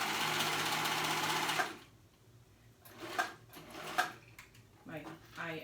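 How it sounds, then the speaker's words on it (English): A serger runs fast and steady for about a second and a half, stitching the shoulder seams of a ruffled back top. Then it stops, and quiet handling noises and small clicks follow. "Again, I'm using my serger."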